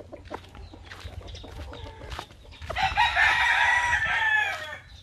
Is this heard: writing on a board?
no